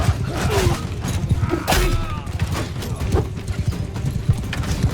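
Rapid clip-clop of horse hooves galloping in the video game Mount and Blade II: Bannerlord, a steady rhythmic pounding with occasional thuds and a faint whinny in the mix.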